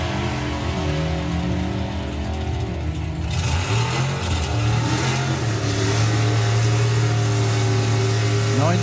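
A long-serving drag racing car's engine revs hard at the Festival of Power, a loud, continuous roar whose pitch climbs and holds steady, close and without talk.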